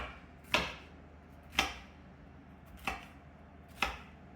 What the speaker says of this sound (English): we've got some onion, some capsicum and carrot. Cut this up.